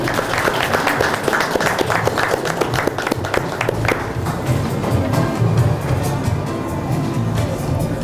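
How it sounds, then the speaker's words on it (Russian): Loud sustained applause from the audience at a sports awards ceremony in Sibay, close and dense clapping throughout, with faint voices mixed in toward the end. "Аплодисменты, аплодисменты."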